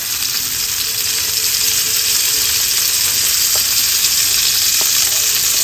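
Chicken and oil sizzle in a frying pan with a constant, loud hiss close to the listener, plus an occasional faint crackle.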